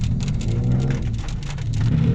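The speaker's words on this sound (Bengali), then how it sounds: "প্রচুর বৃষ্টি হচ্ছে।" Heavy rain pours onto a street in Thailand, a loud dense patter with a low rumble of passing traffic underneath and no voices.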